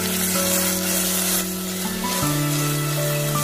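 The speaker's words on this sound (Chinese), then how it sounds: "炒香之后加入一勺黄豆酱，翻炒出酱香味儿" Scallion, ginger and garlic stir-fried with a spoonful of soybean paste in a hot oiled wok, a steady close sizzle with faint scraping as the aromatics are tossed, no voices.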